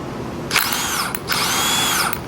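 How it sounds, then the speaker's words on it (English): A Snap-on 18 volt brushless 1/2-inch drive power tool spins up in two loud, close bursts of high whirring, with a short pause between them and no talking. "This is the 1/2-inch drive,"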